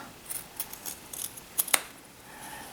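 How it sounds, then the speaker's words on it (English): Scissors snipping through quilting fabric along a sewn line, a series of quiet, irregular crisp snips and clicks close by, ending with a sharper double cut. "I take my scissors because it's easier"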